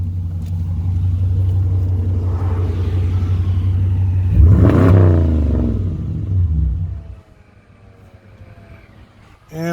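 A Dodge Durango R/T with Thrush mufflers idles with a deep rumble, then revs sharply around the midpoint and settles before the engine cuts off into near silence.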